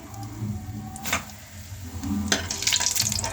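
Soy chunks roast in a pan, giving a soft crackling sizzle with scraping stirs and a couple of brief rustling bursts.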